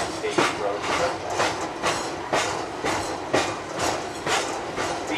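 Train riding the Pittsfield & North Adams rail line between Adams and North Adams, steady rhythmic clickety-clack of wheels over rail joints recurring about once a second, heard from inside the moving car.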